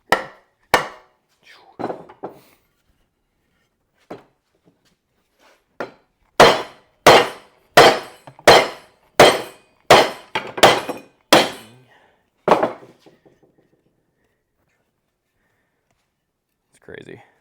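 An axe head is driven onto a wooden handle with sharp, close hammer blows, a few scattered strikes at first and then a rapid run of about ten evenly spaced knocks, followed by silence and a faint final tap.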